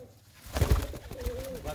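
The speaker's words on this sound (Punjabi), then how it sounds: "ਬਹੁਤ ਹੀ ਵਧੀਆ ਲਾਲਚੀਨੀ ਕਬੂਤਰੀ ਹੈ" A Lalchini pigeon gives a short, soft coo close by, a brief throaty murmur rising and falling over a quiet background.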